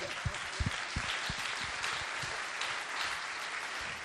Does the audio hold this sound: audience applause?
yes